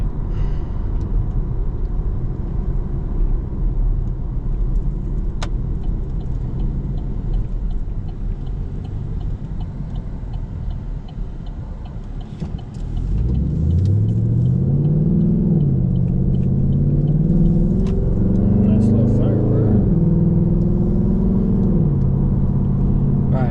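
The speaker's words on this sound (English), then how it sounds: "This is my 5th gen Camaro SS." A 5th-generation Chevrolet Camaro SS with an intake and full straight-pipe exhaust with X-pipe, starting with a steady low rumble, then rising through loud revving pulls and shifts while driving.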